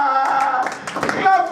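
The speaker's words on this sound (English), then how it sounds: "Clap for Jesus." Congregation clapping in a church service, a short burst of hand claps under a voice and other voices, fairly close and lively.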